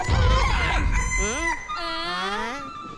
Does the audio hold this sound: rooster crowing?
yes